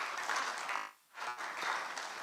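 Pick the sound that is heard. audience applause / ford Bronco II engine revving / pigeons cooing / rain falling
audience applause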